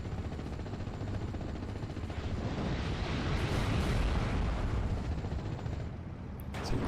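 A sustained, loud, rumbling roar from air strikes in the World War II strategy game Steel Division: Normandy 44, with Typhoon aircraft attacking an 88mm gun and a Panther tank. The blasts merge into continuous heavy noise with a sharp hit near the end.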